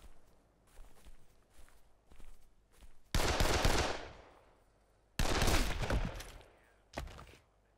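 Gunfire in the video game Dead Island: footsteps thud lightly, then two loud, sustained bursts of rapid automatic fire and a brief final shot, close and unaccompanied by talk.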